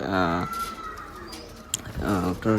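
Tournament-breed pigeons coo in bursts at the start and end of the clip, close by. A voice talks in the quieter middle stretch.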